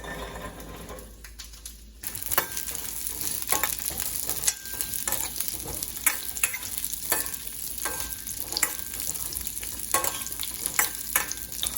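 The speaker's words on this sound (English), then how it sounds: "Now in the same pan I'm pouring a little bit of sesame oil, and we are going to saute the onions." Onions sautéing in sesame oil in a pan over medium-low heat, a continuous close sizzle that swells after a quieter start, with frequent scraping stirs and spatula clicks throughout.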